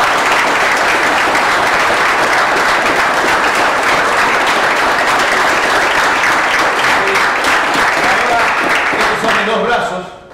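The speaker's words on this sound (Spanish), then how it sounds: "por favor le damos una fuerte aplauso" Loud, dense applause rings out from an audience at a martial arts demonstration, sustained and even for about ten seconds before quickly fading at the end.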